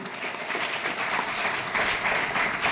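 An audience at a corporate stage event for company leaders claps in steady, dense applause that stays fairly loud and even from start to finish, with no clear voices over it.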